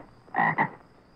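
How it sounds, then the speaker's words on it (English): A poison dart frog in a rainforest gives two short, close croaks in quick succession, with near silence around them. "Poison dart frog."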